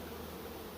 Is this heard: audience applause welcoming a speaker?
no